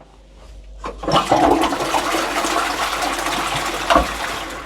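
A working household toilet in an apartment flushes loudly and close by, a strong rushing gush of water that starts after a quiet second and carries on steadily to the end with no talk.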